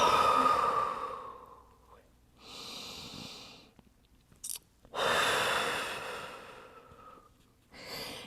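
Slow, deep yoga breathing, long airy inhales and exhales through the nose and mouth in a quiet room, several full breath cycles separated by short pauses, close and soft.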